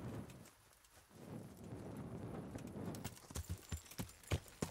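A horse's hooves clip-clop in the video game Kingdom Come: Deliverance at night, at first a soft, blurred patter that sharpens into distinct, fairly close hoofbeats near the end, with faint ambient noise and no talk.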